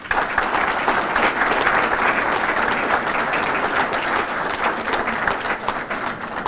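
An audience in a town hall bursts into loud, sustained applause for North Haven's first selectman at his State of the Town address, a dense, steady clapping that fills the room from start to finish.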